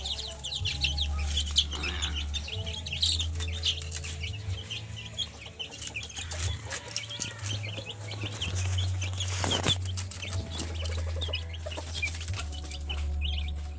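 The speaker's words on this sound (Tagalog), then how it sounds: "Yan po, malulusog ating mga alagang sisiw. 12 days pa lang po yan, mga ka-backyard. Oh, lalakas nilang tumuka, nakakatuwa." Twelve-day-old backyard chicks peck at their feed with rapid, scattered taps under constant chirping and clucking from the flock, over a steady low background hum.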